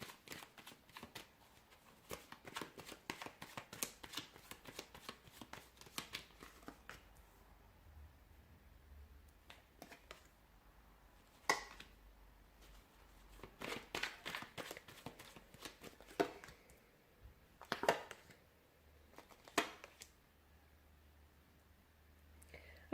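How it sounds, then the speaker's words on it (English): A deck of tarot cards is shuffled by hand, giving soft, close clusters of riffling and sliding card sounds at low volume with quiet gaps between them. "give the cards a shuffle"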